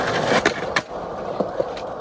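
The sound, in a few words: skateboard grinding on a skatepark ledge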